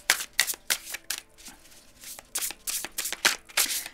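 Tarot cards being shuffled by hand for a reading, a close, crisp series of riffling flicks and soft slaps in an uneven rhythm, alone with no talking.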